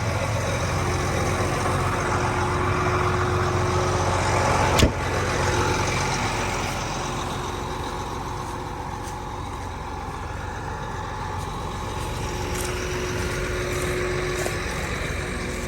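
Heavy farm harvest equipment for corn and soybeans drives across field ridges, a loud steady engine drone with rumbling, one sharp knock partway through, and no talk.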